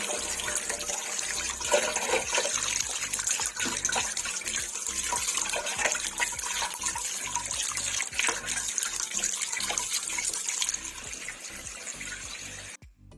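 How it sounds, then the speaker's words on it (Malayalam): Water streams and splashes steadily for several seconds, poured over washed food into a bowl or sink, then stops abruptly. "അതിൻ്റെ മുകളിലൂടെ കുറച്ച് വെള്ളം ഒഴിച്ച് കൊടുക്കുകയാണ്"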